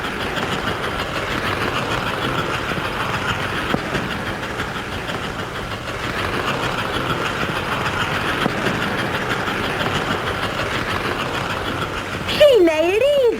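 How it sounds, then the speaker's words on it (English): American Flyer model train locomotive working up a grade on a club layout, a steady mechanical whir and rumble holding for about twelve seconds, with a brief whistle-like tone at the end. "Watch that locomotive work. Wow, look at that engine climbing."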